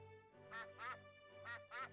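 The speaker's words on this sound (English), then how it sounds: "Oh, look, we've got our first grown-up duck." A grown-up duck in the video game My Time at Portia gives two pairs of nasal quacks, close and clear over a low steady background hum, with no talking.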